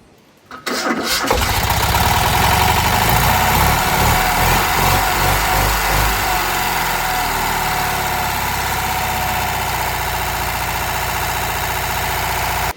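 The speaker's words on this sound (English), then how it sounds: "Now we should be able to start the engine and make sure it runs." A classic Fiat 500 two-cylinder engine, just after a cylinder head retorque, cranks briefly and catches, then settles into a steady, loud, close-up idle with a rhythmic mechanical beat.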